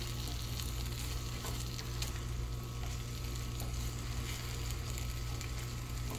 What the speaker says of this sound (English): to do cooking, seasoning, stirring it